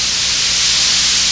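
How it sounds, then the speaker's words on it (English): White noise from hundreds of wavelengths added together: a loud, steady, close broadband hiss with no break or variation. "if I could add hundreds and hundreds and hundreds and hundreds of different wavelengths all together, this would be the result."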